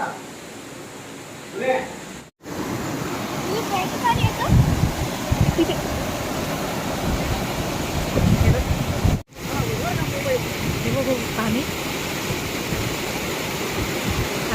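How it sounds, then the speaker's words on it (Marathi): A forceful waterfall near a temple during heavy rain, roaring as a steady, dense broadband wash close by, with two brief dropouts where the sound cuts out for a moment. "इकडे हा ऍक्च्युली वॉटरफॉल आहे तो म्हणून तेवढा फोर्सने"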